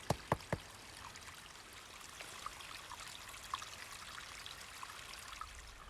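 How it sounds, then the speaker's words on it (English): Water flowing over a redwood log in the Big Sur redwoods forms a soft, steady trickle and stream gurgle, fairly faint and close, with a few small splashy drips near the start and no voices. "Here's a perfect example of water flowing over a log and it's still pretty solid."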